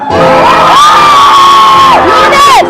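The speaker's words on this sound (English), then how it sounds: "Green Team, I know you can cheer louder than that." A Green Team audience at a live show in Sweden cheers and shouts loudly and continuously, a dense crowd roar with whoops and high yells.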